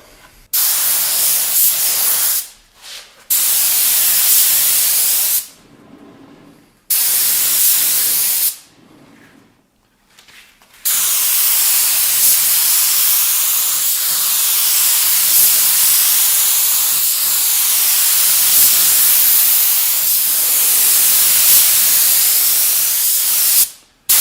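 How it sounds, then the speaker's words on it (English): A spray gun sprays a lacquer top coat onto a wooden door in loud, continuous hissing bursts. Several short blasts separated by brief pauses give way to one long, steady spray. "We've sprayed our top coat, and it looks beautiful."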